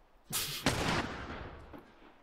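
A single loud video game gunshot from The Last Of Us, with a booming echo that fades over a second or two, heard alone.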